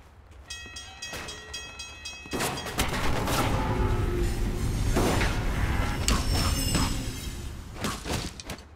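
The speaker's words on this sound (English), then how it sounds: "Hit by a train, y'all." A train rushes past in the Alpha Protocol video game, a loud, sustained rumble and clatter building over several seconds with a horn-like tone at the start, then fading slightly at the end.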